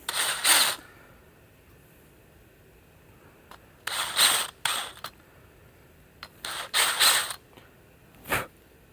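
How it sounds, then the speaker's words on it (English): A freshly drilled hole in a motor build part being deburred by hand with a single-flute deburring tool, several short scraping bursts with quiet pauses between them, close and moderately loud. "All right, let's do some deburring."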